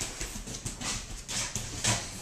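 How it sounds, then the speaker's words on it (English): Hunting dogs trailing a duck hunter outdoors, with soft panting, scuffling and faint whimpers close by, broadband and continuous without any talk. "I got these dogs following me around here."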